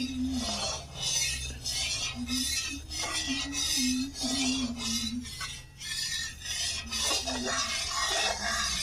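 Hot oil being stirred around a pan while warming for malpua, giving soft, repeated scraping and rubbing strokes at close range, with a steady low hum underneath and no talk.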